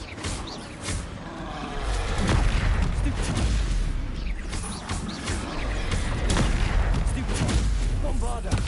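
Bombarda and Confringo explosion spells cast in the Hogwarts Legacy video game, producing dense, overlapping blasts and crackling bursts with a low rumble that keep going throughout, loud and close.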